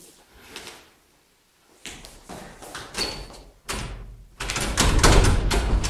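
Someone bangs on a locked door indoors: loud, heavy thuds and rattles in irregular bursts that grow more forceful, with brief pauses between.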